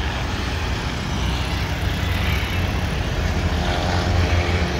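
A small propeller airplane drones steadily overhead near an aeroclub in Guatemala, a continuous broadband engine roar with low rumble lasting throughout, fairly loud and without speech.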